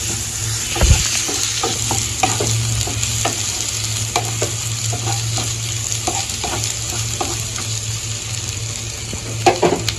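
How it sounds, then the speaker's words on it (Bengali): Carrots frying lightly in a kadai in a village kitchen, a steady close sizzle with repeated clicks and scrapes of stirring and a low constant hum, a louder knock near the start, no voices. "গাজর আমি হালকা করে ভেজে নিব এখন বন্ধুটা"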